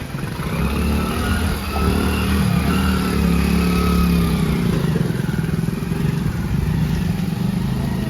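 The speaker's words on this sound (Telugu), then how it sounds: "ఒక బైక్ వచ్చేసి మధ్యలో ఆగి మళ్ళీ వెనక్కి తిరిగి వెళ్ళిపోయింది" A motorcycle stuck on a flooded road during heavy rain runs close by with a continuous mid-pitched engine drone that rises and falls slightly as it labours and turns back.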